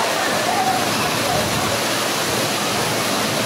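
Ocean surf at Sunrise Beach on Panama City Beach, Florida, on a bright day, a steady loud broadband wash of breaking waves filling the whole stretch without pause.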